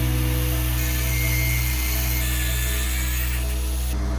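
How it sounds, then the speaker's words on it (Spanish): Iron alternator rotor pieces being cut into fang shapes with a power tool, a loud, steady grinding whine with a low hum underneath, running continuously without a break. "Debemos cortar todas estas piezas en forma de colmillos de hierro."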